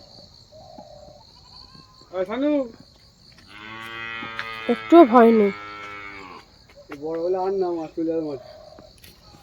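A cow lets out a long, loud, close moo in the open, with shorter lowing calls before and after it, while people talk nearby and insects chirp faintly throughout.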